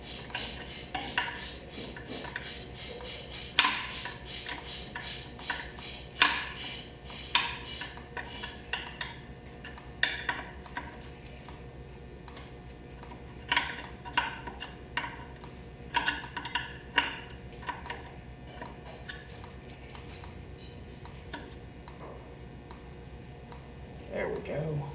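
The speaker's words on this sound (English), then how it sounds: "then come back with just a stubby 10 wrench" A stubby 10 mm wrench works loose the bolts on a Toyota steering knuckle, producing a long run of light metallic clicks and taps, quick bursts then sparser ones, close and quiet.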